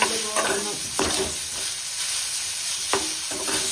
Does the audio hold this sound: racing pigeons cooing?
no